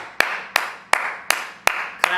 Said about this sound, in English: let's have a fucking clap out